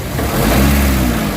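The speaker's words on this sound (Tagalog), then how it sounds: "Ngayon i-accelerate natin. Pakinggan natin yung acceleration kung ano mangyayari." A Honda Fit with a vibrating CVT transmission revs up loudly and close by, a rough mechanical drone with a noisy transmission whine rising through the acceleration.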